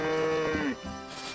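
A cow on the farm in the video game Story of Seasons: Friends of Mineral Town gives one loud, close moo that falls in pitch and fades out, alone without talk.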